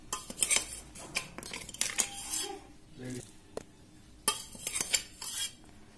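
A spoon clinks and scrapes against a bowl while ground spices are mixed into a homemade mixed pickle, giving irregular close clatters and stirring noises between short pauses.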